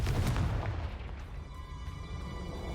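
A deep booming blast from the Confringo spell in the Hogwarts Legacy game, a loud low rumble that swells at once and slowly fades over a couple of seconds.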